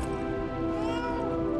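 A cat meows in Lies of P, one drawn-out, fairly loud and close mew with no talk over it.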